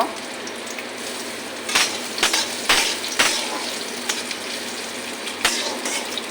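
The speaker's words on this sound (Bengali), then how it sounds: "পেঁয়াজটা একটু হালকা করে ভাজা করে নিই" Chopped onion and green chilies lightly frying in a pan, a loud dense sizzle running throughout with scattered clicks and scrapes of a utensil against the pan.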